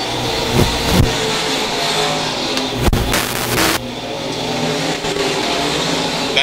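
USRA B-Mod race cars at Lakeside Speedway roar loudly and continuously as they run laps, engine drone rising and falling with sharper surges as cars pass close.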